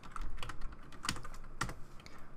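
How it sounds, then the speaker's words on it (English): Keys tapped on a computer keyboard while working in Blender's compositor, a handful of quiet, close clicks with two sharper presses standing out, no voices. "So let's press N on the keyboard to bring up our properties panel"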